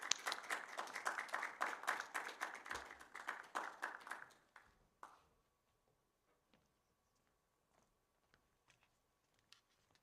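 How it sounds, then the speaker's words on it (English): Crowd applause at a climate conference rings out for about four seconds, then fades to scattered last claps and near silence. "Please welcome them with a round of applause."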